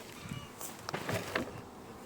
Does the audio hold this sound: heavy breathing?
no